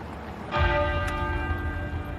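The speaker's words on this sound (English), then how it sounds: "the great tenor bell at Westminster Abbey began to toll" The great tenor bell of Westminster Abbey tolls a single deep, resonant stroke whose long humming overtones ring on and slowly decay, loud and alone with no voices.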